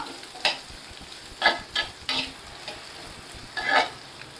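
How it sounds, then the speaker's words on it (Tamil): Shallots and chopped onions sauté in hot oil for mutton chukka, with a faint background sizzle and a handful of sharp, close spatula scrapes spaced irregularly, and no voices. "அரை கப் சின்ன வெங்காயம் உரிச்சு வச்சிருக்கேன் அதை போட்டுடுறேன் அதே மாதிரி ஒரு அரை கப் பெரிய வெங்காயம் வெட்டி வச்சிருக்கேன் கிரேவிக்காக அதையும் போட்டுடுறேன் இதை நல்லா வதக்கிடலாம்"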